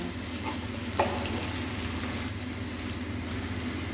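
Chopped tomatoes fry in a pan of oil for an egg curry, giving a steady low sizzle with a brief clink near the start, close and with no talk.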